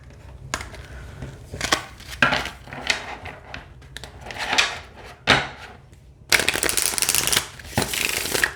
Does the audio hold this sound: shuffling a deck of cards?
yes